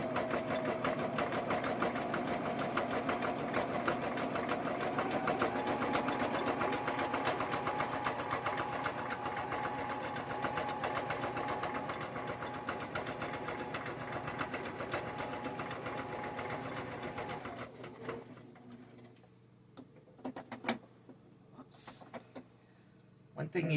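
A sewing machine runs steadily at close range, stitching a zigzag around a quilt block mug rug, its mechanical whir continuous for most of the stretch before stopping abruptly and leaving a few faint clicks and handling sounds.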